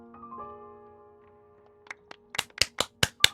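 Scattered applause in Genshin Impact, a handful of sharp separate claps arriving in quick succession after a quiet stretch, close and fairly crisp.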